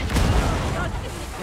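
Explosive barrel blowing up in the Warhammer 40,000: Darktide video game, a dense, loud low-end blast and rumble filling the whole moment with no gaps.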